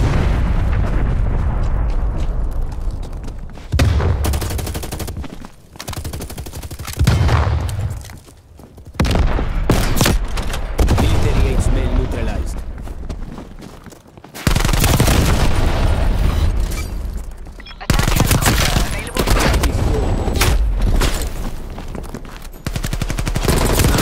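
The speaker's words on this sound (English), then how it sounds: "Artillery inbound." Artillery strike in Call of Duty: Black Ops Cold War: repeated heavy booming explosions and bursts of machine-gun fire, loud and close, with brief gaps between the blasts.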